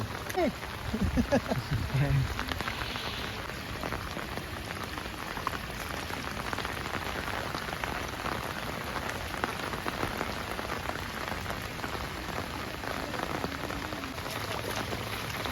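Heavy, steady rain pours down on surfaces during a three-day downpour that has flooded roads and paddy fields, a dense continuous hiss throughout with a few brief voices near the start.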